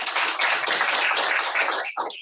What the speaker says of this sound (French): On va applaudir le Seigneur pour la présence de.